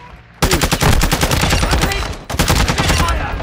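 An RPK light machine gun in a video game fires two sustained, loud automatic bursts of rapid, evenly spaced shots, separated by a brief pause.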